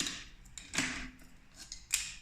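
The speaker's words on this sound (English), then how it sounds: "Like open the door with the key." A mechanical key turns in a Huamai smart door lock with a few quiet metallic clicks and scrapes, soft and close, with no talking.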